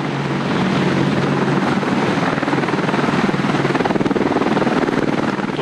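An Apache Longbow attack helicopter flies close by, its rotor thudding in a steady rapid rhythm over a loud continuous engine roar, with no pauses.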